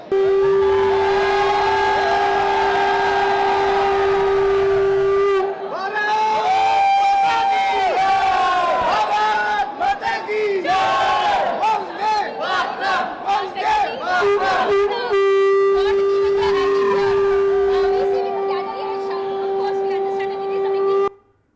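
A loud, excited crowd of cricket fans, awaiting Team India after a World Cup win, cheers and shouts over long sustained horn blasts that stop and restart, with a rumbling din throughout.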